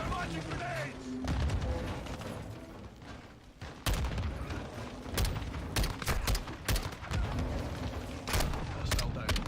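Call of Duty combat with loud broadband gunfire bursts and heavy grenade explosions, sharp repeated blasts and booms over a rumbling battlefield, with voices talking in the mix.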